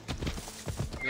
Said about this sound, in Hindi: अरे घोड़ा कहाँ से आता है